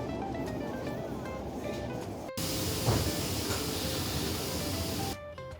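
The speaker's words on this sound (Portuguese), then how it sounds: "decidimos pegar o metrô" Brussels metro train ride, with a steady rushing hiss and rumble of the carriage running on rails and a sharper burst of noise in the middle, heard from inside without talk.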